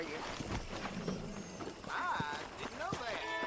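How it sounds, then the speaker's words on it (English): Horse hooves clip-clop in Red Dead Redemption, soft rhythmic thuds on the ground heard faintly under people talking. "I picked out a fine horse for you."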